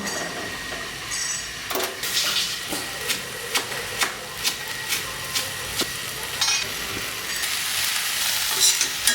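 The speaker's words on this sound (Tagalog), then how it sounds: "Huwag lang masyadong halu-haluin para hindi madurog yung cauliflower." Cauliflower cooks in ghee in a pan under a steady sizzle, and a spoon knocks gently against the pan at irregular intervals as it is stirred slowly.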